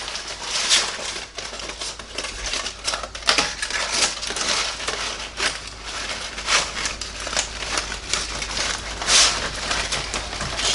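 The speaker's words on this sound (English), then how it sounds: "So I'm going to go ahead and open one of these pork butts up from the foil" Aluminum foil crinkles and crackles as it is peeled back from a smoked pork butt, giving a close, continuous rustling with sharp crisp bursts throughout.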